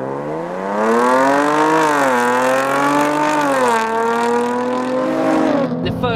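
A Jaguar F-TYPE sports car accelerates hard, its engine note climbing loud and close through rising revs, easing briefly and climbing again before cutting off at the end.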